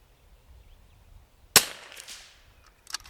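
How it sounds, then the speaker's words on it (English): A single sharp crack of a .22LR rifle shot aimed at a tiny target 150 yards away, close and loud, with a short decaying tail in strong wind and a few faint clicks afterward. "I'm just going to try and shoot that last golf tee."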